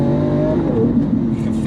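Lamborghini Aventador S with a single-clutch gearbox dropping into first: a close, steady low engine drone holds throughout the brief moment, with no clear shift clunk standing out.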